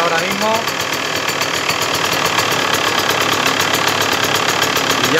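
Enduro motorcycle engine idling just after starting, a loud steady rapid chugging putter close by, continuous throughout with no breaks.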